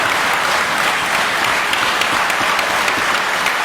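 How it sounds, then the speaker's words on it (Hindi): Legislators in a state assembly chamber applaud loudly, a dense, sustained roar of many hands clapping at once, steady and even throughout with no speech over it. "तालियां बजाकर जोरदार अभिनंदन हमारे विधानसभा अध्यक्ष का करें"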